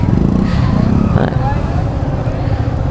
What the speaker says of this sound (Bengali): দেখছেন কত বাইক আসছে সবাই